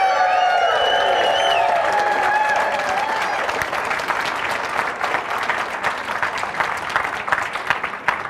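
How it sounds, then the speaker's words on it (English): Audience applause at a marketing seminar, a full crowd clapping steadily with a few cheers and whoops early on, gradually thinning and turning more scattered toward the end. "Give a round of applause."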